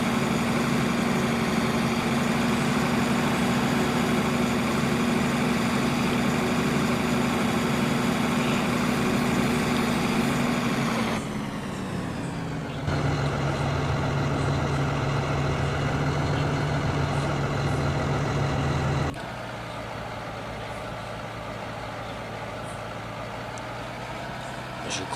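A tractor engine runs steadily in a field during harvest and rapeseed sowing, a loud continuous low drone that drops in pitch twice as the revs settle to a lower idle, with no talk over it.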